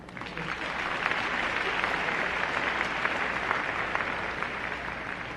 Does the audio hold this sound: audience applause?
yes